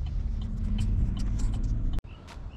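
Pickup truck towing a boat on the road, a continuous low engine and road rumble at steady loudness, broken by a sharp click near the end before the drone resumes.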